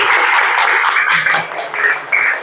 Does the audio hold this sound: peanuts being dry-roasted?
no